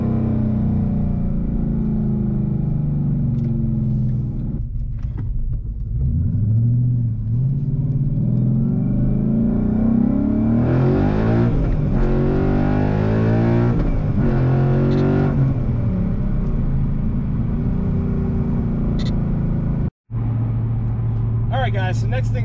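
A 2015-2017 Mustang GT 5.0 on a test drive, its engine rumbling steadily with rising revs and acceleration surges, heard from inside the car under ongoing talk.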